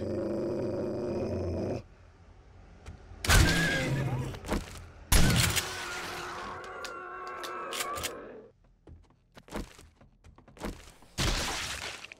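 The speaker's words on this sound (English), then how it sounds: "That sound is always so frightening when you hear that dog growl and you're not expecting it." A dog growls in the survival zombie game 7 Days to Die, low rumbling bursts broken up by sharp clattering and crashing noises, with quiet gaps in between.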